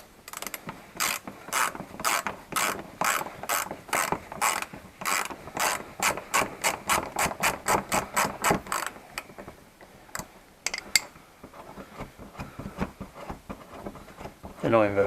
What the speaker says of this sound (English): so you need to undo all them. They are again T30.